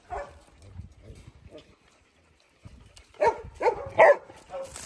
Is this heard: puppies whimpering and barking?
yes